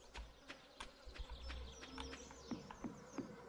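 Buzzing of a fly in the Stardew Valley farming game, a faint, wavering drone that comes and goes, heard alone without talk.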